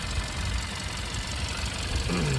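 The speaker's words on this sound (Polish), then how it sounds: "Jednostka napędowa pracuje równo, cicho, w sposób tak jak powinno." A Hyundai Tucson 1.6 with 177 hp, 4x4 and automatic transmission idles with a low, smooth, even rumble heard up close, and a faint tonal whine rises briefly near the end.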